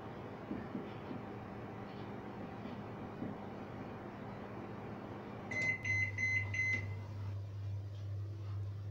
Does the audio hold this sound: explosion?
no